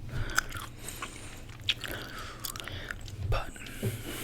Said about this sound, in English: I felt like I was chewing super fast or loud